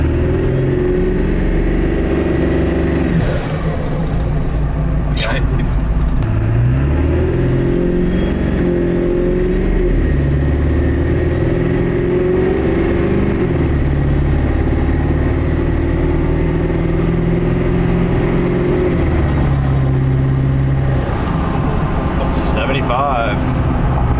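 Ford 7.3L Powerstroke diesel truck engine with new intercooler charge pipes, heard from inside the cab with windows up as a steady low rumble that rises and falls with revving, while people talk over it.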